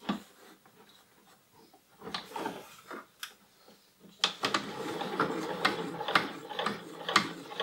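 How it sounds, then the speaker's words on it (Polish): A Pfaff Creative 1.5 sewing machine stitching through eight folded layers of denim, irregular mechanical clicking and ticking that speeds into a steady busy run of stitches in the second half, close and moderately quiet. "Nawet nie dotykając, maszyna sama pięknie transportuje jeans."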